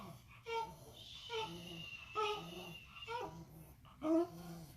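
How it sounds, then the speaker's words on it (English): A rescue dog's labored, wheezy breathing comes up close and quiet in a series of rasping, whimpering breaths spaced about a second apart, with no one speaking. "That's when I hear the breathing."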